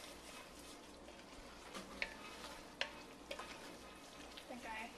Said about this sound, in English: we're just going to scrape up all the little browned bits on the bottom